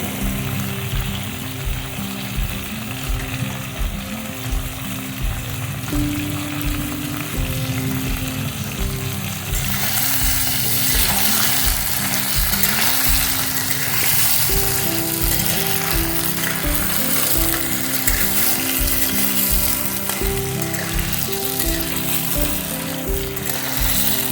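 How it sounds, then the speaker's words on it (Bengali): New winter potatoes fry in hot oil with a strong, continuous sizzle under a rhythmic mechanical ticking, the crackle swelling brighter and louder about halfway through. "প্রথমে আলুটা আমি এইভাবে ভেজে নেবো"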